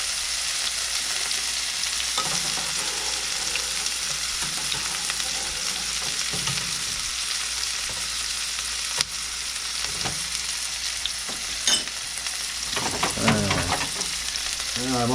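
Carrots and onions sizzle steadily in a hot pan while a sauce reduces nearby, a continuous close frying hiss with occasional stirring scrapes and utensil clinks near the end.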